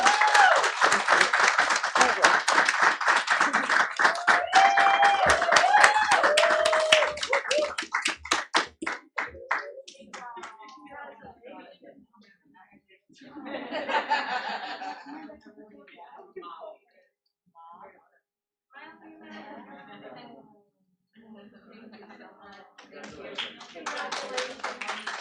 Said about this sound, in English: let's give Miss Esteban and Miss Granger a big round of applause again